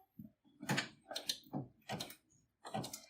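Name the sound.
sewing machine stitching a blanket stitch on a quilt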